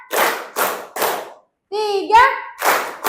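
Children in a classroom clap on a teacher's counted command, giving several loud, evenly spaced claps, then a pause while someone speaks, then another clap.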